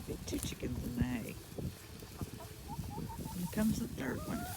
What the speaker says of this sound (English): Get two chickens in the hay.